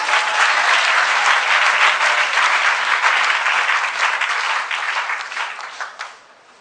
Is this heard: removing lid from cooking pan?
no